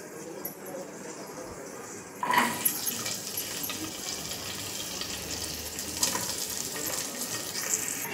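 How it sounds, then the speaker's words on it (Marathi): Vegetables drop into a hot pan for street-style pav bhaji with a sudden loud sizzle, then fry steadily with a hissing crackle as they are stirred. A voice speaks briefly over the frying. "आता आपण त्यात भाज्या टाकून घेऊया।"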